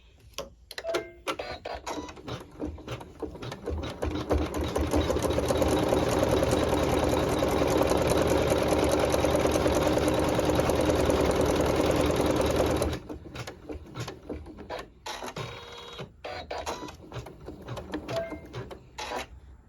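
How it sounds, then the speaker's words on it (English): A sewing machine stitches the antenna and decorative outline of a butterfly, running in a dense continuous whir for about eight seconds between quieter stretches of small handling clicks. "we're going to be sewing the antenna and some decorative stitching and outlining around the butterfly body"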